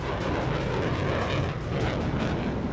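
Steady, loud, continuous roar of a Harrier jet aircraft engine in flight, heard from inside the cockpit with no break in the dense rumble.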